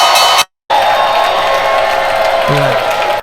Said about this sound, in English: They start cheering.